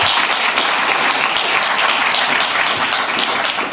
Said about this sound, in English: So a big hand for everybody for representing.